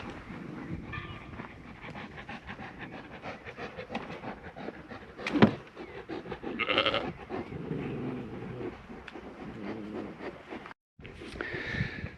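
Sheep bleating on a farm, a few scattered calls at moderate distance over quiet rustling outdoor background, one louder bleat standing out midway.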